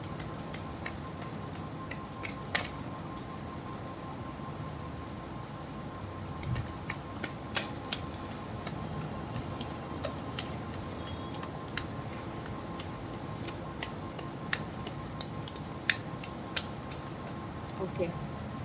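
Tarot cards shuffled in a steady run of light, sharp taps and flicks over a constant background hum, close and soft, with a voice speaking at times.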